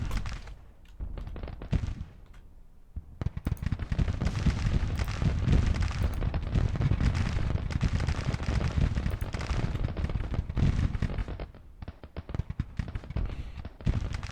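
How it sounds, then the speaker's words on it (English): In a Civil War strategy game battle, 30-pounder artillery and massed gunfire rumble in rapid overlapping blasts and crackling volleys, loud and continuous, briefly easing in the middle before resuming. "I think my 30-pounders are having an impact."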